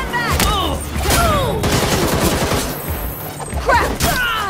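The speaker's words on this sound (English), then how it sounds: "I'm shooting! Stand back!" Gunfire in the video game Gotham Knights, rapid bursts of shots and booming impacts layered over game effects and brief voice fragments.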